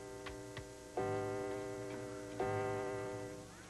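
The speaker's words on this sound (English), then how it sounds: "Suddenly, the clock struck 3." A clock striking three in a cartoon gives a couple of quick sharp ticks, then two loud, resonant chime strikes that ring out and slowly fade, with no talking.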